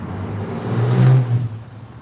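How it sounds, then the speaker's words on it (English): A loud truck rumbles past nearby outdoors at a patio gathering, its deep engine drone swelling to a peak midway and then fading as it moves off, with no talking. "I know that was a really loud truck."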